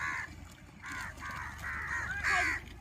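Several harsh cawing calls from crows, four or five close bursts spaced irregularly over low background noise.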